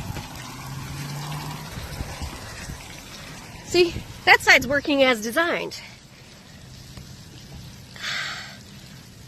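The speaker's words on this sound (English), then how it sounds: "We've got water going over top of this tile" Water streams steadily across the tiles of a newly installed roof, a continuous soft wash heard close by, with someone talking over it partway through.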